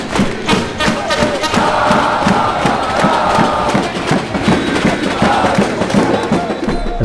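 A huge Brazilian crowd roars at the CS:GO Rio Major esports event, rhythmic chanting and pounding thumps driving a loud, sustained wall of cheering with no gaps.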